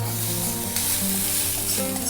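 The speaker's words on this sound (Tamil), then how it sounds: "கருவேப்பிலை, இதை மட்டும் தாளிச்சிடலாம் சாதத்துக்கு." Curry leaves tempering in hot oil for brinjal rice, a steady close sizzle and crackle with low stirring scrapes underneath, no voices.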